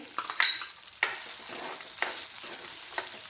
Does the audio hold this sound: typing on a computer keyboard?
no